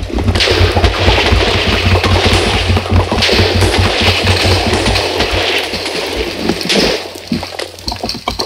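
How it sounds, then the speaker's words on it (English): A butter-shooting cannon from the Derpy Squids mod fires in Minecraft, a loud dense stream of rapid popping bursts with a watery splashy edge, continuous and close throughout. "It's awesome because it shoots butter and stuff."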